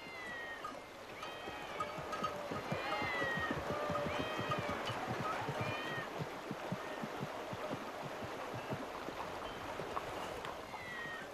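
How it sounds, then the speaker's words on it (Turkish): A crowd of cats at a cat temple meow over and over, overlapping calls from several animals at once against a soft busy background, with no talking. "Bunca kedi burada ne arıyor?"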